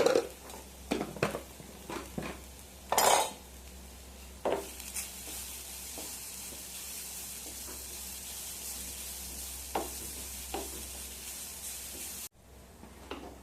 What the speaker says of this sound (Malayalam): ചതച്ചു കൊണ്ടുവന്ന തേങ്ങയും ജീരകവും വെളുത്തുള്ളി ഇതിലേക്ക് ഇട്ട് കൊടുക്കാം.